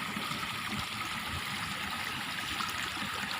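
A river stream flows steadily beside rice paddies, a continuous broadband rush of water with no pauses, moderately loud and close.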